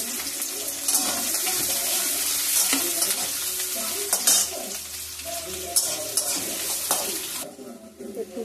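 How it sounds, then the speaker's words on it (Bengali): Onions hiss loudly in hot oil just after potatoes were fried, with a dense sizzle, occasional scrapes of a stirring spoon, and a brief faint voice under the noise before it quiets near the end. "এবারে পেঁয়াজগুলো দিয়ে দেবো।"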